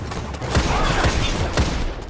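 A sidearm pistol in Destiny fires in a quick burst of about four sharp shots, close and loud over a busy background of game noise.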